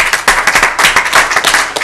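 An audience claps in a dense, loud round of applause at a legal wellness seminar, with steady overlapping hand claps filling the whole moment.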